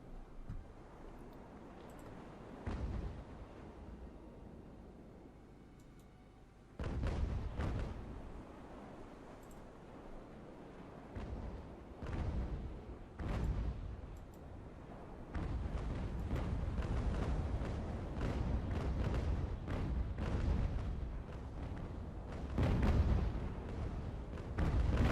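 Ship cannon broadsides from the naval battle game Ultimate Admiral: Age of Sail, heavy booms firing in irregular bursts, some clustered close together, over a continuous rumbling battle ambience.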